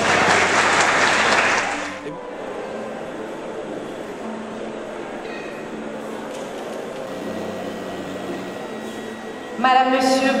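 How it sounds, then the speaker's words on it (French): Audience applause at a pageant evening, a dense burst of clapping in the first two seconds that then dies down to a quieter hall murmur with faint tones, before a brief loud swell near the end. "J'aimerais bien que vous vous applaudissiez chaudement,"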